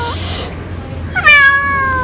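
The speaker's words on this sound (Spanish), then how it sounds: "aprovechamos para traer a Gato al veterinario, pero había muchísima gente." A cat meowing at a busy veterinarian's office, giving a drawn-out, tonal meow near the end, close and loud, after a brief quieter vocal sound and over low background murmur.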